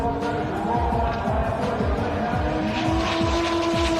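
Drag race cars at an import drag racing event running side by side, a loud continuous engine roar with layered tones and rapid rhythmic pulsing, steady throughout with no break.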